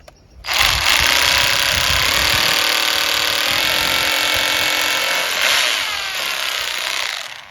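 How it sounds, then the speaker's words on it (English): A small power drill boring into a wall to test the fixing behind it, a loud close whining run that starts abruptly, holds steady for about six seconds with a slight change in pitch, then stops. "check with this small drill whether it's a solid fixing behind it"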